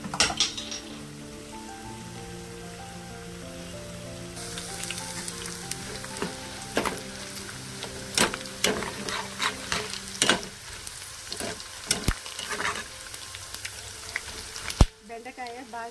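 Okra and peanuts stir-frying in a pan with a spice tempering, a busy sizzle and crackle close by with repeated metallic clinks and scrapes of stirring, brief faint voice near the start.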